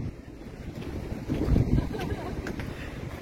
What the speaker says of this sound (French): il y a un vent, mais alors terrible.